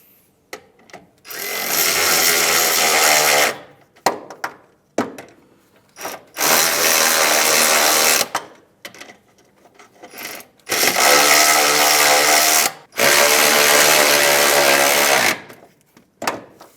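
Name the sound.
tightening sway bar bracket bolts with 14 mm tool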